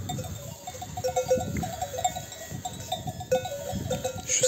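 Flock of sheep and rams grazing on a Turkish highland summer pasture, with scattered bleats and clanking bells over a steady outdoor ambience, animals at close to middle distance and no talk.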